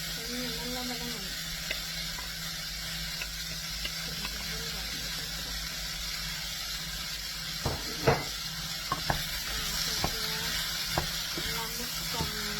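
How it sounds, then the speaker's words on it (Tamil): Winged beans sautéed and stirred in a pan, with a steady soft sizzle and a few sharper scraping clicks from stirring near the end. "நல்லா வதங்கணும்."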